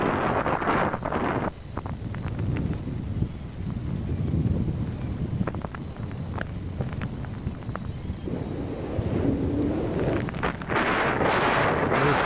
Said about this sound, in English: you're going to see where I get hit with a gust, which turns me back over the trees